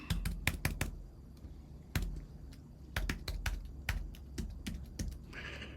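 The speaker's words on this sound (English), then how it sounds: "I'm going to go ahead and type in my information here." Quick, crisp clicks of a computer keyboard while someone types login details, near and clear, coming in fast clusters with short pauses and no talking.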